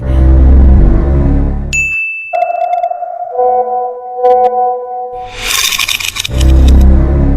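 A phone message notification chime rings out once, a bright ding with a sustained tone that sits alone between stretches of loud background sound.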